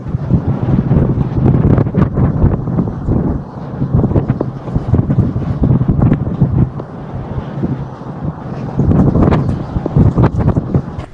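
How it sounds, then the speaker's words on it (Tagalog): Strong, gusty wind in Taiwan buffets the microphone in loud rumbling bursts that rise and fall throughout, storm-like, with no clear voices. "Sobrang lakas talaga ng hangin para kamong may bagyo"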